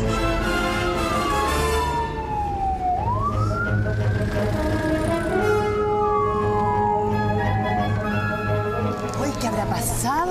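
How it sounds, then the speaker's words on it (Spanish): An ambulance siren wails in long rising and falling sweeps, loud and close throughout, with traffic rumble underneath and voices talking over it. "¿Pero tú viste de dónde venía la ambulancia?"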